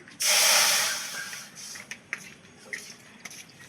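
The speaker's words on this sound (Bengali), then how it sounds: "কড়াইতে আমি জল দিয়ে দিচ্ছি" Water poured into a hot kadai (wok) for steaming palm-fruit bara, giving a loud burst of hissing sizzle that fades quickly, followed by faint scattered crackles and pops; no speech.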